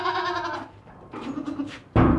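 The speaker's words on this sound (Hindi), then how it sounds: "फ़िलहाल अकेली बकरी है" A lone nanny goat at a livestock sale bleats loudly and close, a long quavering call followed by shorter bleats and a sharp loud burst at the end, with no talking.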